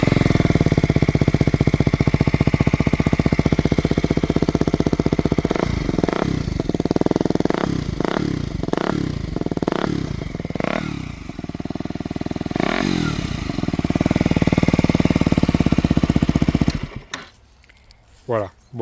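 A KTM Duke 125 motorcycle engine and exhaust idle, then rev in a series of sharp, evenly spaced blips before settling back, recorded close by; the sound cuts off abruptly near the end, leaving a few faint knocks.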